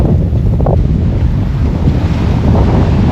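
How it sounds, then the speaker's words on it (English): Strong 25-knot wind buffets a sailboat at sea in the lee of an island, a loud, steady roar of gusting wind and rushing water across the whole stretch, with no voices. "I've got 25 knots of wind on the beam."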